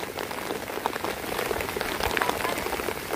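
Rain falls steadily outdoors, a dense close patter of drops striking surfaces with no pauses.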